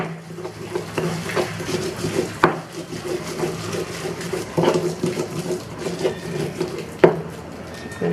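Fried peanuts are ground in a mortar with a pestle: a steady rubbing and scraping of the pestle against the bowl, with occasional sharper knocks, up close and without speech.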